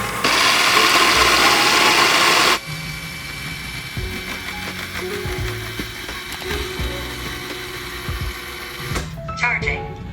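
A Roborock Q Revo robot vacuum rolls back to its charging station with a whirring, ratcheting mechanical drone that carries on steadily for several seconds after a loud burst of broadband noise, then stops with a few clicks.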